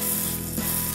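Steady close sizzle of a chicken burger patty frying in a little oil in a pan, a continuous even hiss with no voices.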